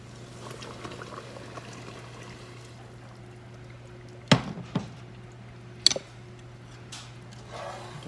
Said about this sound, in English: Once you have a good boil going, you're going to add 8 cups of sugar